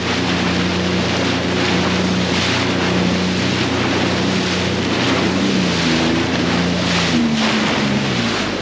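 A boat motors steadily across open water where a lake's murky green water meets a darker stretch off Niagara's north coastline, a continuous engine drone with its pitch sliding near the end, wrapped in constant wind buffeting and wave noise.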